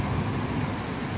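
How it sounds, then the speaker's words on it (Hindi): Heavy stormy rain falls outside a house window, a steady, fairly soft wash of noise with a low rumbling undertone and no voices. "हाँ, इतनी बारिश है तूफानी।"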